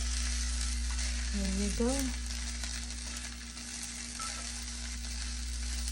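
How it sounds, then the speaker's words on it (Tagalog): Fried rice sizzling in a pan over a steady, fairly quiet hiss with a constant background hum, and a brief voice speaking near the two-second mark. "Pero still good to do fried rice"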